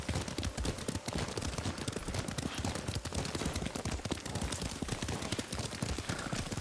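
Horse hooves clip-clopping at a steady riding gait in the video game Ghost of Tsushima, a dense continuous rhythm close up with no talk over it.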